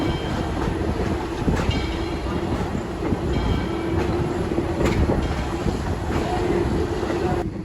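Steady rumbling of a steam-hauled railroad passenger car in motion, with rhythmic wheel clicks and faint squeals, heard from inside.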